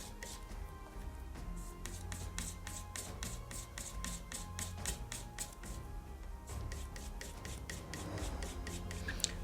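A knife blade is stropped over a board coated with abrasive paste for leatherwork, giving steady rapid rasping strokes in a regular rhythm, close and continuous, with a short pause midway.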